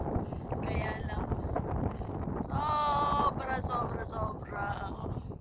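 Strong wind buffets the microphone on Kai Kung Leng, the Rooster Ridge in Hong Kong, as a steady loud rumble while people talk over it.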